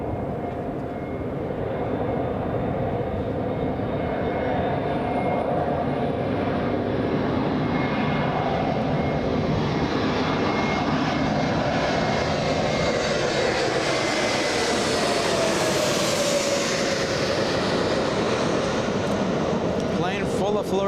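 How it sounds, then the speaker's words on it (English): Delta Airbus A321 jet arriving at Los Angeles International Airport, a loud sustained engine roar that swells and sweeps as the aircraft passes, with a commentator talking over it. "Next to arrive, Delta's 912. This is the flight from Orlando, so that means this is an Airbus A321"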